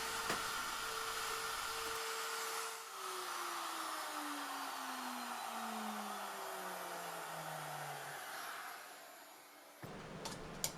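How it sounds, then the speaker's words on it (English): A router cuts a test piece of plywood clamped in a shop-made finger joint jig, giving a steady, fairly faint whine with a falling tone as the cut proceeds. It ends in a brief louder burst near the end. "With the jig clamped to a test piece of plywood, I make a cut."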